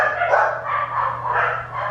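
A dog barks and yaps continuously nearby, loud and insistent, with no pauses.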